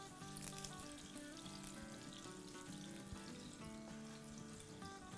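Curry leaves with garlic and green chillies sizzle in hot oil, a steady, quiet frying crackle that continues throughout under faint background music.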